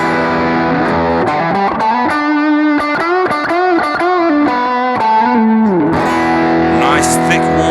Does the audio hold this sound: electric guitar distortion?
yes